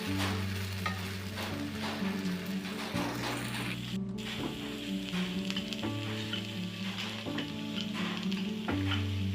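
Masala holige flatbread sizzles steadily on a hot griddle over medium flame, a soft continuous frying hiss with faint scraping and tapping sounds, and no voices.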